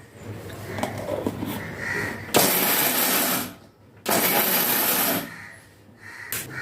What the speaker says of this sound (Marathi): शेंगदाणे आता आपल्याला मिक्सरला बारीक करून घ्यायचे आहे म्हणजे जास्त एकदम पावडर बनवायची नाही आहे चालू बंद चालू बंद करून